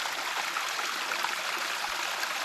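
Water from a garden irrigation hose laid among vegetable beds runs in a steady, close, even rushing hiss with no pauses.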